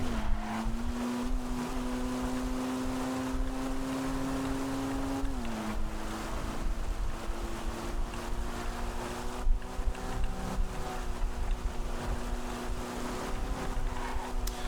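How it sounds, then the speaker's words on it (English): A tuned car engine in GTA V Online drones on at a steady, laboring pitch, struggling and dipping briefly midway, under a constant background rush. "even with the engine tuning, it is really struggling"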